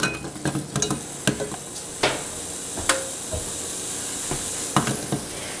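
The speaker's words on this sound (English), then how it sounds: "now that our butter is all melted, we're going to throw in our apples" Apples sauté in melted butter in a saucepan: a soft continuous sizzle and hiss broken by sharp utensil clicks and scrapes against the pan as they are stirred.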